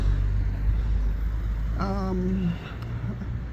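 Steady city traffic rumbles near Jerusalem's central bus station, a continuous low roar of passing vehicles with a brief tonal horn or engine whine rising midway, then settling into a quieter drone.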